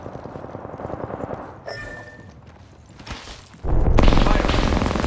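Automatic gunfire in the Apex Legends video game, rapid rattling bursts that fade briefly and then return louder and denser near the end, with a game voice heard amid the shooting.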